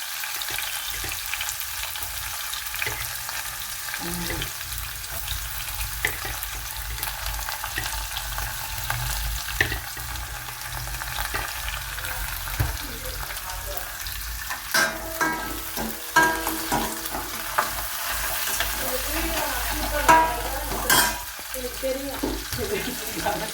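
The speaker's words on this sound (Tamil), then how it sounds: "நல்லா வதக்கிக்கணுங்க." Garlic and green chillies sauté in a pan for shark curry with a soft, continuous sizzle, broken by occasional scraping and stirring clatter that grows busier in the second half.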